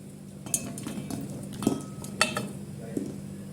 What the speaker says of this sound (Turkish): Biberlerimizi doğrayıp hazırlayalım.